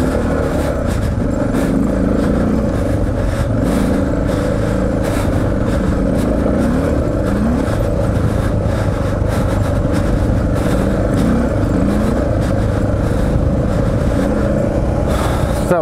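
Suzuki DR650 motorcycles riding along a sandy railway track, engines droning and revving continuously with wind buffeting, loud and close for the whole stretch.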